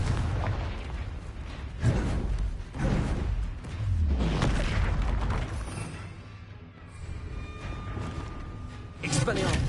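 Confringo fire spell blasts in Hogwarts Legacy: several loud booming bursts with whooshing tails, spaced a second or two apart, mixed with a voice speaking over them.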